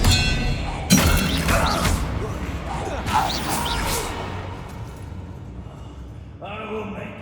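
Expelliarmus spell cast in Hogwarts Legacy, a sharp crack and whooshing burst amid loud combat thuds and shattering impacts, with voices shouting over the clash before a fading hum.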